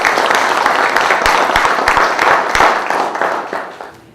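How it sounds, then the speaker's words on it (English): Audience applause for a speaker at an inventor boot camp, loud and dense, with a few sharper claps near the front, slowly fading toward the end. "applause to Ms. Dixie."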